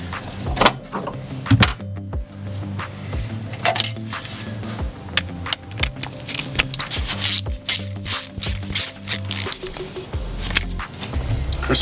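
A ratchet works a ground strap bolt loose on an Isuzu Stylus, giving repeated clicking ratchet strokes in bursts with metallic clanks and tool knocks between them, close by.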